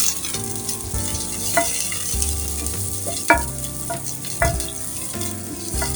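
Small shallots fry in oil for a coconut-based prawn curry, a loud, close crackling sizzle with sharp spatters and scraping stirs recurring every second or so.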